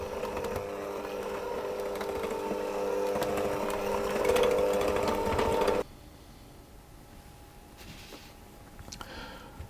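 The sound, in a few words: electric mixer mixing Christmas cake batter on low speed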